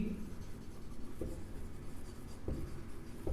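Marker or chalk strokes on a classroom board, a few short scratchy taps and scrapes at intervals over a low steady room hum, with no talking.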